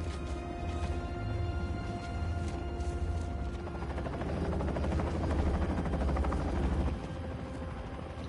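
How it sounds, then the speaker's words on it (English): A helicopter in Marvel's Spider-Man 2 video game drones with a steady, fairly loud rotor chop and whine that swells toward the middle before easing slightly, with no talking over it. "He just be popping up in that chopper like it ain't nothing."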